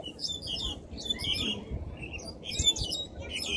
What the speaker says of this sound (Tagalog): May mga tapos may chirping birds.